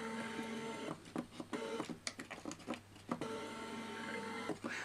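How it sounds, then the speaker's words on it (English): The motor of a self-built V3 3D printer kit whines and buzzes through its first power-up, a steady mechanical hum broken by quick rattling pulses and stepping sounds, close and moderately loud, with no voices. "That motor does make an alarming amount of noise."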